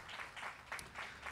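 Soft applause from the crowd at a Brentwood High School graduation ceremony, faint and somewhat distant, swelling in a few gentle pulses as the clapping continues.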